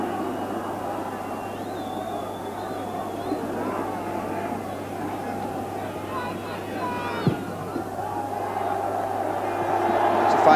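A partisan rugby crowd at the 1992 Munster versus Australia match roars and jeers after a high tackle, a broad sustained swell of voices beneath a commentator's talk that rises toward the end.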